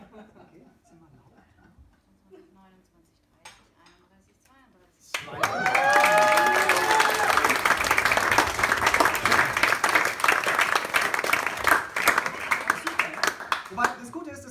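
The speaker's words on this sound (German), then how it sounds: "dann spontaner, enthusiastischer Beifall" Spontaneous, enthusiastic applause from a theater audience at a card magic show erupts suddenly after quiet talk and holds as loud, dense clapping with some cheers for nearly ten seconds.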